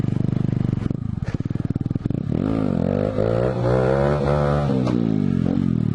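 A Honda CBR 125 four-stroke sport motorcycle revs hard while being lifted into a wheelie, the single-cylinder engine climbing and falling in pitch through repeated throttle surges, close and loud with some clatter.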